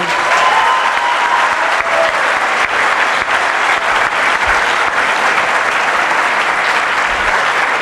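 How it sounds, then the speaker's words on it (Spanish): A conference audience in Mexico gives strong, sustained applause, a loud and even wash of many clapping hands that holds at full level throughout with no break. "les vamos a dar un fuerte aplauso también"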